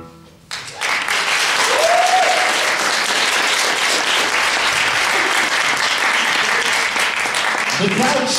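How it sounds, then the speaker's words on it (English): Crowd bursting into applause and cheers after a musical number, starting abruptly after a quiet moment and holding at a steady, full roar of clapping until a voice enters near the end. "The crowd cheers for a quick moment before resuming their conversations"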